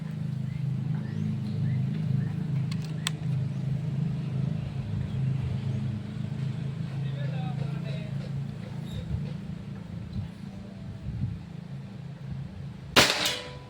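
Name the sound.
air gun shot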